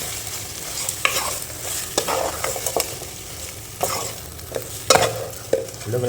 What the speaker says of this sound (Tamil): நல்லா மிக்ஸ் பண்ணுவோம்.